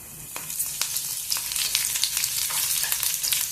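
Green chillies, garlic and curry leaves fry in hot oil, giving a continuous crackling sizzle with sharp pops and occasional stirring scrapes, close up and moderately loud.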